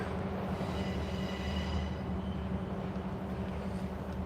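A train rolls slowly past at steady volume at the Tennessee Valley Railroad Museum, a continuous low rumble with faint wheel squeal and metallic ringing above it, no voices.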